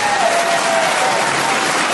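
Dense applause from a comedy show audience in Kirkwall, a close, continuous wash of clapping at steady loudness without distinct cheering voices.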